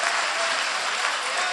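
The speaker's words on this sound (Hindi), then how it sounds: "आज जरा वैसी वाली ताली नहीं बज रही है आपकी" An audience at a mushaira poetry recital in Baghpat applauds, a dense even wash of many hands clapping together, fairly loud and sustained throughout the short stretch.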